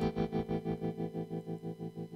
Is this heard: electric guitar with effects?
yes